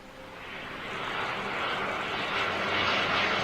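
Ex-Virgin Atlantic jet airliner passing overhead, its engine roar swelling from faint to a steady loud rumble as it nears, with no voices.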